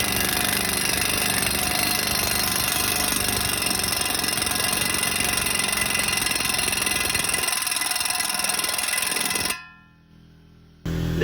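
Air-powered Astro Tools hub bearing tool hammering a tight wheel bearing out, a loud rapid pneumatic chattering burst sustained for about nine seconds, then stopping to near quiet before a brief restart.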